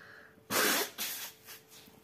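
A person blows their nose hard into a tissue: one loud, close honking blast, then two shorter follow-up snorts, with no talking.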